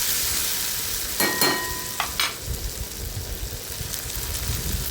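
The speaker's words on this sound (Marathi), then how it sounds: "मीठ घातल्याच्या नंतर टोमॅटो पण आपला चांगला मऊ होतो एक मिनिटभर परतून घेऊया व्यवस्थित" Tomatoes with salt softening in a pan for masala vangi, a steady soft sizzle and hiss throughout with a few brief scrapes of a spoon stirring, no voices.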